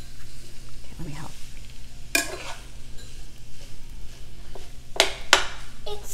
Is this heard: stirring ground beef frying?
yes